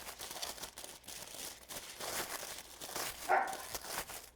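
A puppy barks and yips indoors during Christmas gift wrapping, with crinkling of scrunchy silver ribbon mixed in; short, fairly faint yaps scattered through, one sharper bark near the end.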